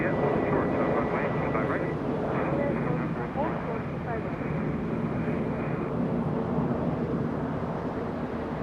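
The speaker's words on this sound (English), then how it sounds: "As we see the company aircraft land and slow down right in front of that bridge" At Los Angeles International Airport, a company aircraft lands and slows with a steady, loud roar of engines and rushing air that holds throughout, while a voice talks over it.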